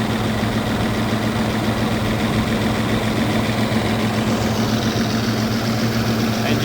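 A rebuilt 1995 Toyota T100 truck engine idles nearby with a constant low rumble and hum, unchanging throughout with no speech.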